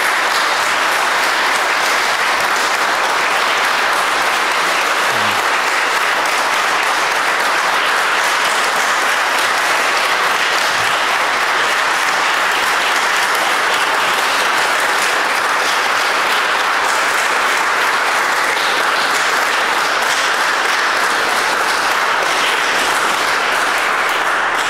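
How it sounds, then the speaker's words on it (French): Warm, sustained applause from a church congregation at a Saturday Mass, dense and loud, rolling on evenly for a long stretch with no voices over it. "Alors j'aimerais qu'on les applaudisse chaleureusement."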